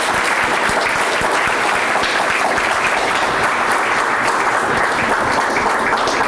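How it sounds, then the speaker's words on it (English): Audience applause for Dr. Jenny Tung after a genomics lecture, dense and sustained clapping from a room of listeners, steady and loud throughout with no pauses. "So let's give her another round of applause."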